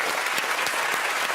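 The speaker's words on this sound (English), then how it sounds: "that is one of the most patronising rounds of applause you'll ever hear" Brief round of studio audience applause on a comedy panel game show, a steady wash of many clapping hands at moderate level with no speech over it.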